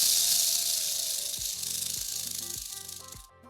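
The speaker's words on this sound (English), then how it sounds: "A cobra sounds like this." A cobra's hiss, a steady broad rushing breath that starts loud and slowly fades, with faint low tonal sounds underneath and a brief drop near the end.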